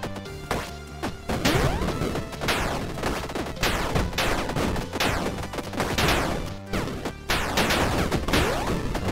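Double cannon fire in a free-to-play action roguelike game, a dense barrage of rapid booming shots and crashing impacts, loud and continuous with brief gaps.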